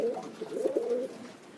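A straight Tedman family racing pigeon coos softly nearby, a short low murmuring burst of throaty notes over a quiet background.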